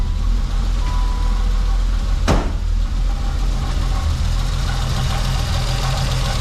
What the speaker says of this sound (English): the car seems to be running super smooth, which is also a very good sign